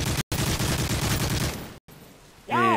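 Rapid bursts of video game gunfire rattle loudly for over a second in a competitive shooter match, cut off abruptly, followed by a quieter stretch and a brief ringing tonal effect at the end.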